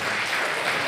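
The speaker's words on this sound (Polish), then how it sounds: "Wielkie brawa dla Rafała" Audience applause at a wedding gala, a dense, steady clapping that fills the whole short stretch without pause.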